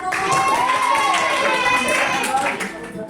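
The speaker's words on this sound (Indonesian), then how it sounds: "Tepuk tangan kelompok 1." A school classroom applauds group 1 in a seventh-grade lesson on formal letters: a burst of hand clapping from many students, with voices calling out over it throughout.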